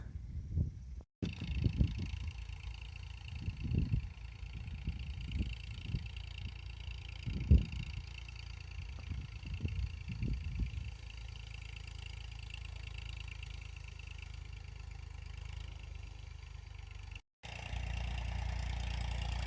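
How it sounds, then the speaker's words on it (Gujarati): A tractor engine rumbles nearby on farmland being readied for summer groundnut sowing. It chugs in uneven low pulses at first, then settles into a steady drone with a brief cut near the end. "ટ્રેક્ટર આવે છે હવે."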